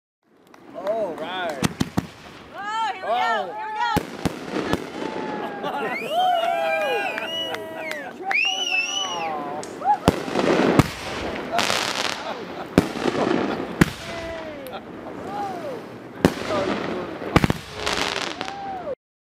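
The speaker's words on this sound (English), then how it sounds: "just in time for July 4th fireworks" Fourth of July fireworks crack and boom in rapid, irregular bursts near water, some sharp pops and some whistling, with people talking and cheering throughout.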